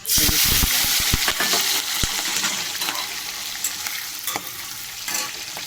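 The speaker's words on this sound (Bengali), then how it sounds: "তো আমার তেলটা গরম হয়ে গেছে, আমি চিংড়ি মাছগুলো" Raw prawns hit hot oil in a pan with a loud, steady sizzle and crackle, opening with a few sharp clatters and stirring knocks, then settling into continuous frying hiss.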